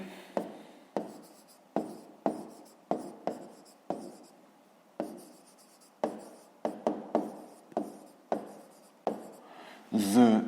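Pen writing on paper while a math answer is written out, a quiet close run of short scratchy strokes with brief pauses between them, ending in a louder rustle of the paper.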